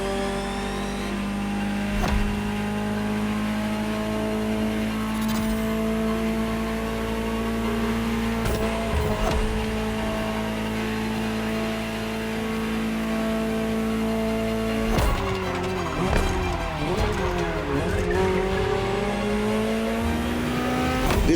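A Ferrari GTO, the 308-based Gran Turismo Omologato, drives in The Crew Motorfest. Its engine drones steadily and loudly, with revs rising and falling through distinct gear changes and brief surges.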